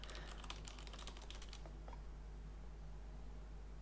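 Rapid keystrokes on a computer keyboard as a password is typed, a quick burst of close clicks that stops after about two seconds, leaving a steady low hum.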